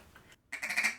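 A duck's gabbling feed call with no whine or squeak, a short burst of rapid raspy notes after a brief pause, fairly close and alone.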